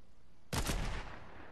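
One sharp, loud sniper rifle shot from the Fortnite video game, a sudden crack that rings out and fades over about half a second.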